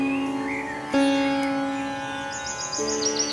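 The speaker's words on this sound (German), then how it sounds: "Hört ihr die Vögelchen singen?" Small birds sing in a forest with clear, separate chirps and whistled phrases, some nearby, over a quiet background with no talking.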